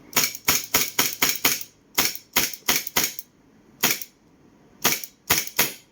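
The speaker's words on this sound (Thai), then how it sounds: "ยิง หมดแล้วนัดสุดท้ายสไลด์จะ ค้างอย่างนี้" Toy pistol firing a rapid string of sharp, loud cracks in bursts of several shots with short pauses between groups, close and crisp, with no talking.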